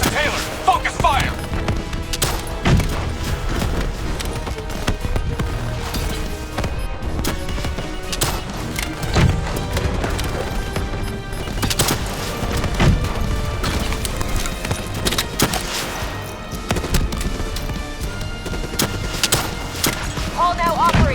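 Gunfire in the Call of Duty Black Ops 3 campaign, with dense, continuous bursts of shots and booms against a loud battle mix, while game voices talk over the action.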